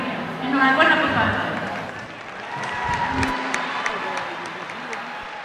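A crowd applauds at a national charro championship, steady clapping and cheering in a large open venue, with voices talking over it and louder claps standing out in the second half.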